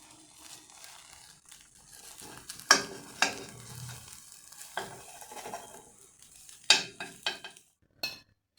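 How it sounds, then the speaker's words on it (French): A cooked omelette is cut in half in a frying pan with a utensil other than a knife, giving soft scraping and stirring scrapes with faint sizzling and a few sharp clicks against the pan, close and fairly quiet. "Je vais la couper en deux et pas avec un couteau pour ne pas abîmer la poêle."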